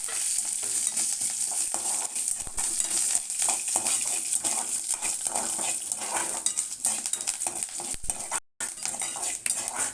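Ingredients for pepper rasam are stirred in a frying pan, with a spoon scraping and clinking against the metal over a steady sizzle, repeated close strokes, and a momentary break near the end.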